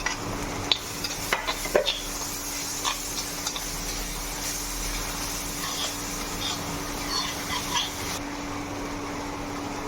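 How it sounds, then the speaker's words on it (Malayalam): Crushed garlic and ginger sauté in a pan, giving a faint, steady sizzle, with a few soft clicks and scrapes of stirring near the start. "പച്ചമണം മാറുന്നത് വരെ നമുക്ക് ഇതൊന്ന് ഇളക്കി കൊടുക്കാം"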